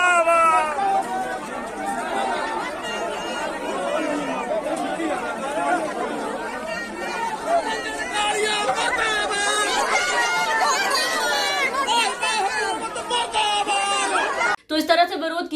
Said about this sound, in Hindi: सब मिलकर मुर्दाबाद के नारे लगाए जा रहे हैं उनकी तरफ से भाजपा नेता के खिलाफ